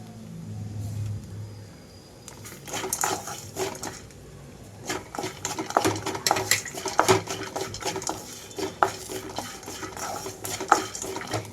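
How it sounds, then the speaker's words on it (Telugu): Spices being stirred in a pan for a phool makhana snack: after a quiet start, repeated close scraping and clinking of a utensil against metal builds into a busy, uneven rhythm of stirring strokes. "ఇప్పుడు ఇందులోకి ఫుల్ మఖనా వేసేసుకొని కలిపేస్తున్నాను"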